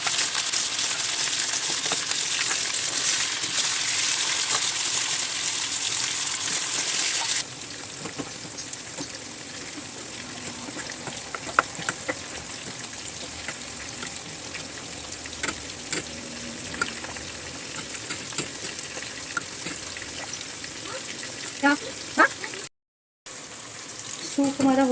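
Tomato soup with turmeric, cumin, coriander, crushed red chili and lemon simmers in a pan, a soft steady sizzle and bubbling heard up close with a voice talking over it.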